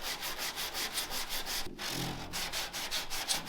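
Hand sanding on spots of a car's cowl panel makes a quick, steady rhythm of close rasping strokes, about four per second, with a brief pause partway through and no talk.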